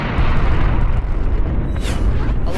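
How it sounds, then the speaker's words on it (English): A bomb detonates in the arcade shooter Beat Hazard, a loud, dense rumbling blast that fills the whole clip with continuous low boom and crackle, close and sustained. "Do I have another bomb? Yeah! Bomb it up!"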